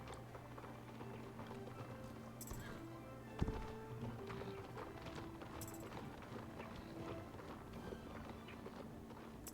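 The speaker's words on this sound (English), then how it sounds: "The sound effect with this horse is so interesting." Steady hoof clip-clop from a horse in the game SSO, trotting rhythmically over a constant background of game music and ambience, with one sharper thud midway.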